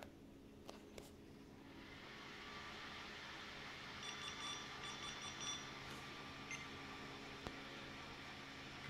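A Windows 8 car PC powered up outside the car gives a faint series of short, high electronic beeps over a low steady hum from its spinning fan.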